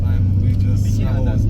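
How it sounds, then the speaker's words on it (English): Tour van driving toward Mount Chacaltaya in Bolivia, with a loud, continuous low engine and road rumble heard from inside the vehicle and voices faintly present beneath it. "The tour van departed for Chacaltaya"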